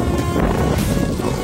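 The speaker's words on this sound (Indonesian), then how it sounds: "Kan anginnya kencengan." Strong wind gusting at Merak harbour, buffeting the microphone as a loud, continuous roar with rough low rumble, filling the whole moment without speech.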